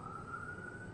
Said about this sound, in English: Excuse the siren if you can hear it.